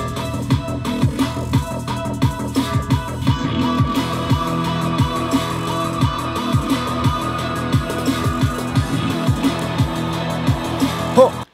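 Intro of an electronic track played back in Ableton Live: a dense, busy mix with steady punchy drum hits driving a constant rhythm under layered synth tones, loud and continuous with no voices.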